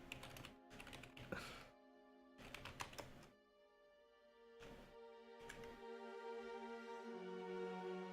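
Quick bursts of computer keyboard typing come in short clusters, close and crisp, separated by gaps filled with a soft sustained musical tone.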